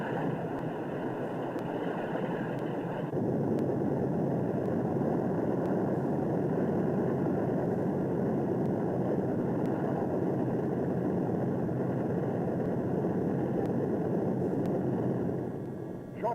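Several B-25 Mitchell medium bombers run up their engines on the field, a dense, continuous low roar that swells slightly after a few seconds and holds steady, heavy and filling the scene with no voices.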